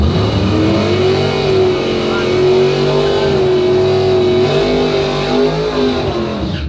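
A 1968 Chevrolet Camaro drag race car runs loud and close at a drag strip, its engine holding a steady, heavy, throbbing drone throughout with slight shifts in pitch.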